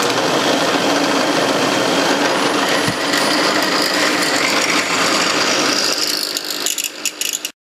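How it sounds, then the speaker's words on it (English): A power drill with a 3/8 inch bit grinding steadily into metal slots, a continuous harsh whir with rattling, loud and close, winding down and stopping at the end. "I got a 3/8 inch drill bit, and I squared it up, and I'll simply true up each slot"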